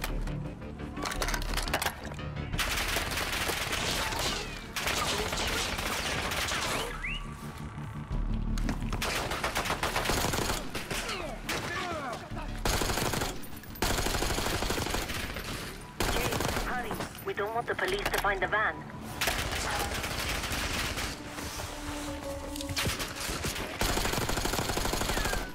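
Dense gunfire in the Call of Duty: Black Ops 6 video game, with rapid automatic bursts, sharp sniper cracks and explosions coming thick and loud in close, continuous waves with brief lulls between them.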